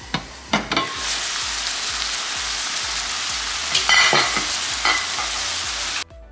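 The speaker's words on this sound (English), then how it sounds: "we are going to stir, stir, stir" Beef and broccoli fry in a pan with a loud, constant hiss, while a few utensil knocks and scrapes of stirring come at the start and around the middle before it cuts off abruptly.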